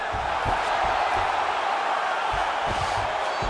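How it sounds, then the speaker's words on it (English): Arena crowd in the EA Sports UFC 5 video game roaring in a steady loud wash of cheering during a fight between Manel Kape and Henry Cejudo, with a few dull thuds underneath. "huge pop from the crowd as the fighters get back up to their feet"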